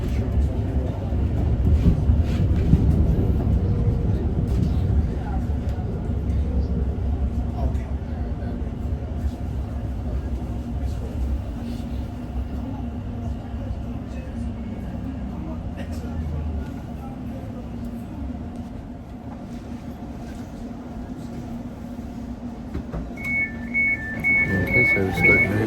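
A London Overground Weaver Line train rumbles steadily along the track toward Liverpool Street, with a deep continuous low roar that eases slightly midway, joined near the end by a high two-tone chime.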